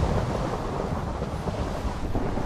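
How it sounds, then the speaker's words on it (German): Thunder rolls in a continuous loud, deep rumble during a thunderstorm in Minecraft with the TerraFirmaCraft mod, blending with rain and wind noise. "Boah, jetzt gewittert's auch."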